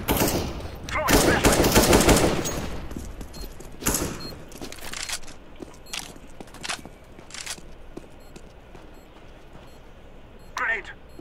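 Bursts of rapid gunfire in a competitive Counter-Strike: Global Offensive match on Dust 2, loud at first then scattered sharp shots, with a voice talking over the action.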